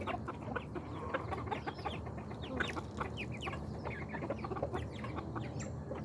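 Backyard chickens, including a black rooster and a young white hen, cluck and chatter steadily at close range, with soft overlapping calls and no talk.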